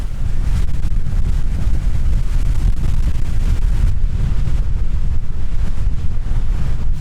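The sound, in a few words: strong wind on a mountain edge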